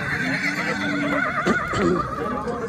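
A horse at a working horse market gives a loud, close, quavering whinny, then a shorter second call, over a steady murmur of background crowd noise.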